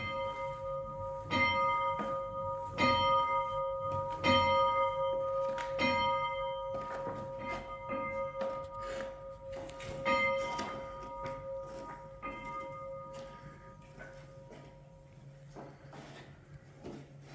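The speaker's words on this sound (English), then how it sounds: "ring the bell." A church bell rings at the Norman-era St Peter & St Paul's Church in Peasmarsh, East Sussex, with repeated clear strikes at a steady pace. Each strike leaves a long humming resonance that slowly fades toward the end.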